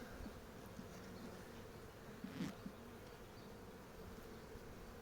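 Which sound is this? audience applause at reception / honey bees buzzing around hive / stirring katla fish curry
honey bees buzzing around hive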